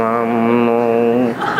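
A blue blowfly buzzes steadily in flight close by, a sustained loud drone that holds evenly before wavering and fading slightly near the end, with no talk over it.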